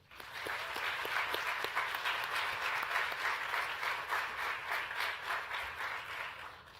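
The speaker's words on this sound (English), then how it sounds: "Please join me in another round of applause for the leaders, donors, and partners who are investing in the next generation of nurses and nurse educators." A ceremony crowd at a nursing college groundbreaking claps for leaders, donors and partners; sharp individual claps at first swell into a sustained, even round of applause that fades slightly near the end.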